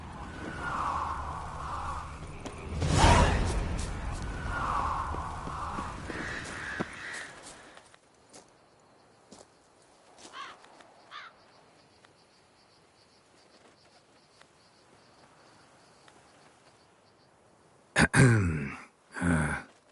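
Crows caw in The Witcher 3 game world, with a louder burst of calls early on, then scattered, fainter caws over a quiet insect-like ambience and a few sharp noises near the end.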